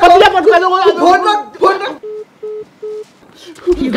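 A voice speaks, then three evenly spaced electronic phone dialing beeps sound clearly before the voice resumes.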